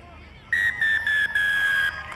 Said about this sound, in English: So there is the final whistle.